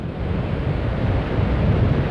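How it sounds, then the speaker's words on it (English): Strong coastal wind buffeting the microphone on a rocky East Coast shoreline at low tide, a continuous dense rumble with a faint surf wash beneath, no talking. "I say it's a bit windy"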